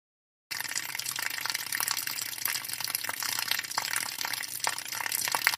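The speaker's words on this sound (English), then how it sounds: "now all I need to do is to get my water bottle out of my backpack, and then pour it onto the floor for when Ms. McCormick walks by" Water poured from a bottle splashes onto a hallway floor in a steady, close gushing stream that runs without a break for about five seconds, with nothing else heard over it.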